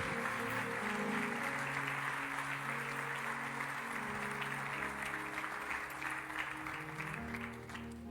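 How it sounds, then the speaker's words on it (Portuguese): A church congregation claps in praise while organ or keyboard chords sustain underneath, the clapping dense and continuous across the room at a moderate level. "aplauda o nome dEle"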